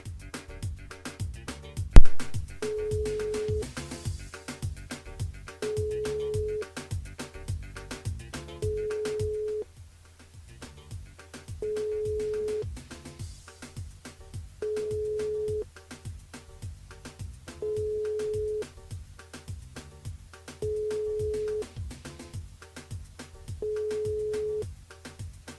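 Telephone ringing unanswered during a live radio phone-in: a repeated electronic ring tone in regular pulses, about eight of them, heard over looping background music with no one picking up.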